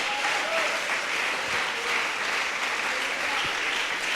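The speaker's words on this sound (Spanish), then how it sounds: "Dele ese aplauso al Señor." Church congregation applauding steadily, a dense even wash of clapping that fills the whole stretch, with faint voices and shouts mixed in beneath it.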